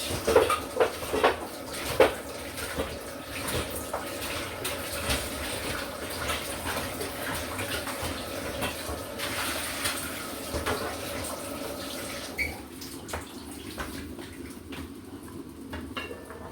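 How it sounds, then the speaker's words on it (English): Food for Jamaican stew peas being washed by hand in water with a little vinegar, with continuous close splashing and sloshing, occasional clinks of a bowl or pot, and no talk. "So that's a little bit of vinegar there. And let me wash it."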